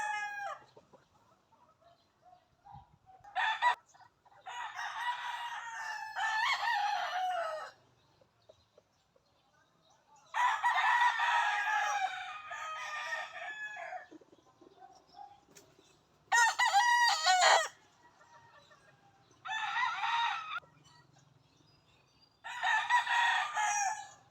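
A rooster crows again and again, several loud, close cock-a-doodle-doo calls separated by short pauses, with no talking.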